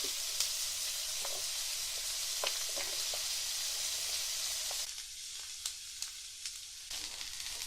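Potatoes, sausage and mushroom frying in a pan, a steady close sizzle with occasional sharp pops and stirring clicks, easing slightly partway through.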